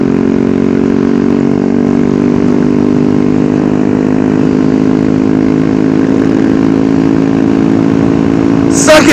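A Ducati motorcycle engine at a supermoto meetup holds a loud, steady throaty drone close by for the whole stretch, with little change in pitch.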